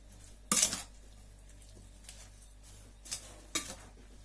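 Tossing chopped cabbage with bell pepper for pickling in a slightly small bowl gives a few crisp rustling, scraping bursts with pauses between them, fairly close and otherwise quiet.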